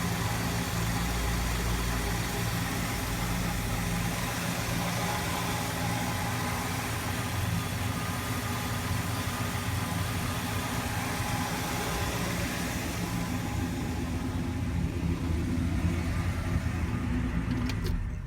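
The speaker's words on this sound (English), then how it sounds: "The motor runs nice and smooth and quiet." A 1967 Chevrolet Chevelle Malibu engine idles smoothly and quietly at close range, a steady low rumble holding even for the whole stretch before easing slightly near the end.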